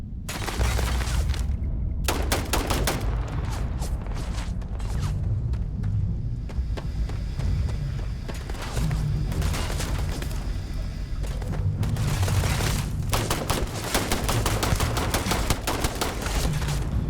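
Sustained automatic gunfire in the space RPG Starfield, rapid bursts of loud shots running almost continuously with brief gaps, close and dense, with a voice faintly underneath.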